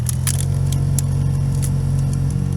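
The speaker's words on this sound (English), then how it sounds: "when I turn the blower on," A car heater blower fan runs steadily with debris, apparently mouse nesting material, rattling in the ducts; a constant low hum with faint intermittent ticks and rustles, close and alone.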